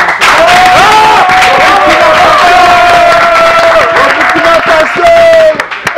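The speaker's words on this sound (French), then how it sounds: "Est-ce qu'on peut l'applaudir?" A studio audience on a TV show cheers and applauds the Burkina Faso actor Oyo, its dense crowd noise mixing with a loud voice that speaks over the clapping.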